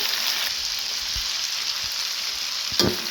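Chicken pieces and onion frying in oil in a large pan, a steady loud sizzle with occasional stirring clatter, close up and without talk.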